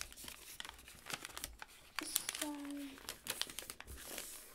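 Crisp origami paper crinkles and creases in short bursts as a flapping crane is folded and flattened by hand, close up, with a voice speaking over parts of it.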